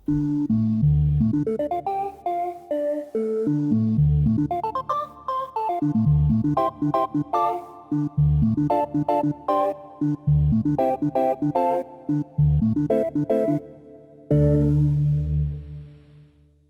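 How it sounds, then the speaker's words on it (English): A Waldorf Quantum synthesizer vocal organ preset plays a melody of sustained, choir-like chords with gliding pitch, notes starting and stopping in quick phrases. "this one I've called voice organ. I think it's using some sort of vocal kind of patch."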